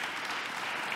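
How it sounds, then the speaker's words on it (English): A brief burst of audience clapping welcoming a panel at a regional debate forum, moderately loud and even for about a second, with no voices on top. "I'd like to get the applause in before I start asking the questions"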